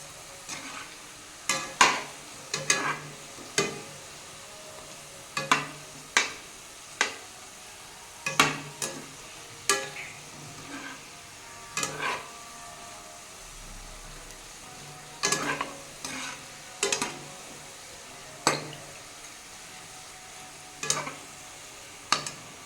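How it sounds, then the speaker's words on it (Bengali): Red sweet potato pantua balls fry in hot oil while being stirred, with a low steady sizzle broken by repeated sharp scraping and knocking strokes of a spatula against the pan, close and clear. "একটু নাড়তে চাড়তে এরকম করে ভাজতে হয় বন্ধুরা"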